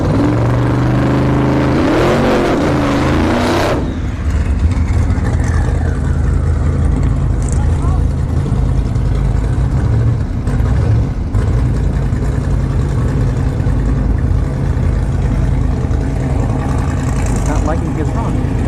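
A drag racing car roars through a burnout at Orlando Speed World, the engine holding a loud, steady, dense drone for the whole stretch after a brief rising rev at the start.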